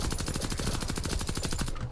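Rapid, steady automatic fire from a suppressed ZX84C rifle in the Warface shooter game, a continuous dense stream of muffled thumping shots across the whole clip that cuts off at the end. No voices.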